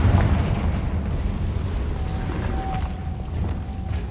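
A deep rumbling blast from the Confringo fire spell in Hogwarts Legacy on PS5, a loud low boom at the start that settles into a sustained roar, with no talk.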